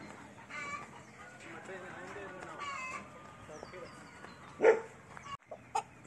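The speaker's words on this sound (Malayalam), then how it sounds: "ചൂടുള്ള സമയത്ത് ഫാനിട്ട് ഒരുപാട് കോഴികളുണ്ട്, ഒത്തിരി കോഴികളുണ്ട്" Chickens, many of them native hens kept under fans on a farm, cluck and call faintly in the background, with a couple of sharper squawks near the end while a person talks over them.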